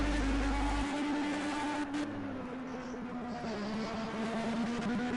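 Race car engines in a PS4 racing video game drone steadily and loudly, a continuous roaring whine with no talking over it.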